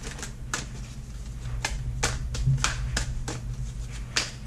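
Tarot cards being shuffled by hand, a run of sharp riffling snaps and flicks repeating at an uneven pace, close and fairly loud over a low steady background hum, with no talking.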